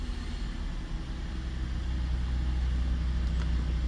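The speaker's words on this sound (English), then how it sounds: "And she will rev." A 2015 GMC Acadia engine runs in a steady low rumble that swells slightly as it is revved, heard close with no talking.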